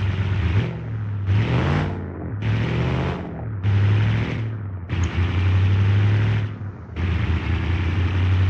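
A 1985-style rally car engine revs hard in repeated bursts, surging up and cutting off about six times with brief gaps, loud and close.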